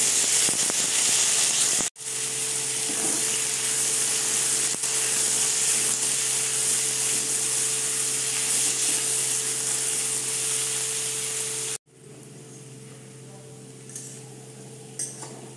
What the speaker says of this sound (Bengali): এরপরে আমি আলুগুলো ভেজে নেব।